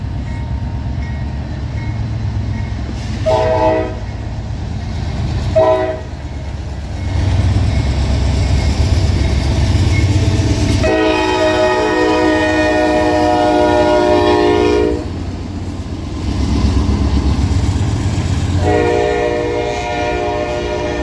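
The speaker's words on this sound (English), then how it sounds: "I heard a horn in the distance and decided to get on one of my favorite spots to see trains" A freight train rolls past nearby, loud rumble and clatter of cars throughout, with a long blaring horn blast sounding in the middle and shorter horn notes near the start.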